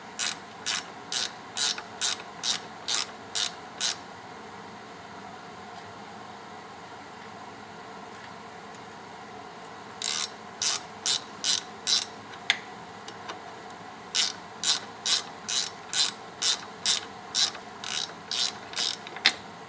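Rapid ratchet clicking from a wrench working a tight bolt loose during a rear brake job, heard in two bursts of even clicks with a quiet pause between them.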